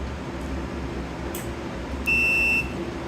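A continuity tester sounds a single steady electronic beep of about half a second while probing a 1959 Cadillac power antenna, heard over a low background hum.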